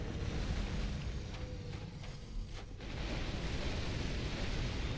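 A boss's fire attack in Dark Souls II roars as a loud, rumbling burst of flame, with a brief dip before the blaze surges back and keeps going.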